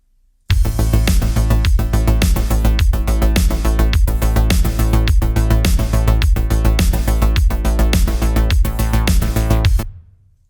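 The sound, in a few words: synthwave drum group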